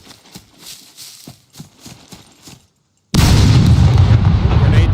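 A grenade detonates against a tier 4 wall in the video game SCUM: a few quiet handling clicks, then an abrupt, loud, full-bodied blast that roars on without letup to the end.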